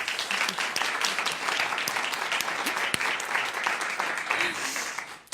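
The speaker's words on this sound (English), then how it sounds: "Give our guests a warm round of applause" A seminar audience at KTH gives its panel guests a warm, full round of applause, steady and dense throughout with a few sharper individual claps standing out.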